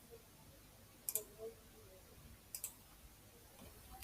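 A few faint, sharp computer mouse clicks land on the Finish button of an Android development IDE: a double click, then another pair a moment later, over quiet room hiss.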